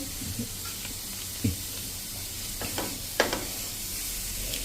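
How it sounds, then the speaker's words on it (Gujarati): Millet dosa filling stir-fried in a pan with chili sauce added, giving a steady close sizzle with a few sharp spoon scrapes and clicks against the pan. "અને હવે આમાં આપણે ચીલી સોસ નાખી દેશું"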